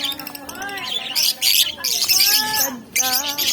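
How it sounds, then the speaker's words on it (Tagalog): Several small yellow African songbirds chirp and tweet at a Philippine market stall, bright overlapping calls in quick bursts close by, with people talking over them throughout. "Yan, African bird."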